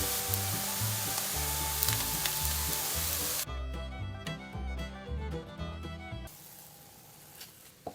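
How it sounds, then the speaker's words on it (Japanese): Nagaimo and tofu mochi frying in a pan over medium heat, a close, steady sizzle of oil with occasional stirring or shifting sounds that quiets near the end. "半面の焼き目がまだ薄いので火力を中火に上げて半面にも焼き目がつくまで焼き上げます"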